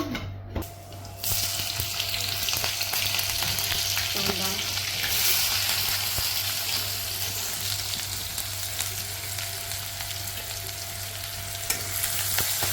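Oil fries in a pan for an upma dish, giving a loud, continuous sizzle close by with occasional stirring scrapes and a low steady hum underneath.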